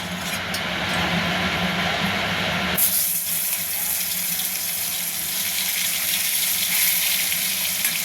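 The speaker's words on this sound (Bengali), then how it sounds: "ভালো করে তেল গরম হলে এবার মাছগুলোকে ভেজে নিতে হবে।" Fish frying in a wok of hot oil, tel koi style: a loud, steady hiss and crackle that grows brighter and denser after the fish hits the pan, continuous with no voices.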